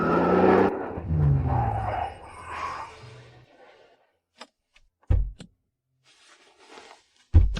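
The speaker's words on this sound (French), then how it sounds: "Tu conduis la voiture de mariage comme une voiture de course?" Wedding car driven hard like a race car: a loud, close engine rush with tyre noise for about three seconds, then near silence broken by a few sharp thumps like doors or bumps.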